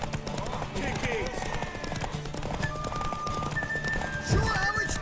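Rapid hoofbeats of a galloping horse in The Witcher 3: Wild Hunt, over a busy game soundscape, with a horse whinny near the end and voices shouting.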